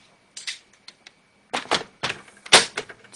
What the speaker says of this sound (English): I'm just going to trim this white piece down